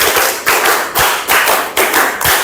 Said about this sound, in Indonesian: Tepuk 1, tepuk 2, tepuk 3, tepuk 4, tepuk 5, tepuk 5 2 kali.